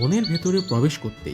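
Faint bird chirps and tweets from the Lawachara National Park forest near Sreemangal sound in the background while someone speaks loudly over them.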